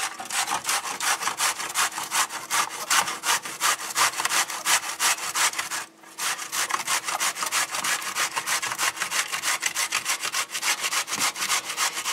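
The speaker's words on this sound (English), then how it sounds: "we're going to get our box grater" Zucchini being grated on a box grater: rapid, rhythmic rasping strokes at close range repeat evenly throughout, with one short pause in the middle, and no talking.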